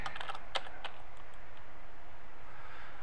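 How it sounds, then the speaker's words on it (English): Quick bursts of keystrokes on a computer keyboard, close and crisp, clustered in the first second and then trailing into quiet room hiss. "I'm going to type in my name"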